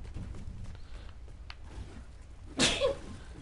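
A single short, sharp sneeze bursts out near the end against a quiet, murmuring background.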